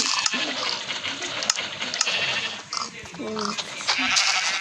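Sheep bleat in a game scene, with short wavering cries over busy background sound and a voice talking throughout.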